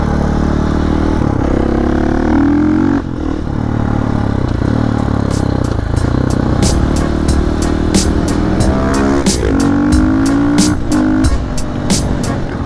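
A fuel-injected KTM 450 EXC supermoto motorcycle drones loudly and continuously while being ridden, its single-cylinder engine rising and falling in pitch, with a ticking clatter joining in toward the end.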